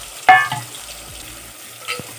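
Small onions fry in a pan for sandhuva fish curry, giving a soft sizzle. One sharp stirring clink comes near the start and a second fainter scrape follows near the end.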